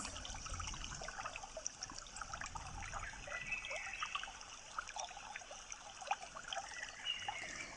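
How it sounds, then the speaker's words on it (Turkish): Steady babbling of a shallow stream trickling over stones in Ballıkayalar Nature Park, Gebze, Turkey, continuous and close, with small splashy bursts and no voices. "Şırıl şırıl su sesi, doğa harika gerçekten."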